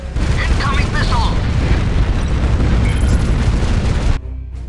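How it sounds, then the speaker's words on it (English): Incoming missiles strike in the Art of War 3 strategy game, a loud, continuous run of booming explosions and bursts that rumbles for several seconds before cutting off abruptly into quieter background. "Incoming missile!"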